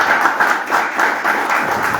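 A crowd claps at an outdoor march event in Montevideo, a short burst of steady, moderately loud applause with overlapping hand claps and no speech.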